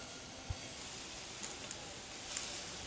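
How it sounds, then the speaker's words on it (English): Pancake batter hitting a hot pan of browning butter makes a steady soft sizzle and hiss, with a few faint clicks and taps throughout. "So we'll just go ahead and put some of this pancake mix on here."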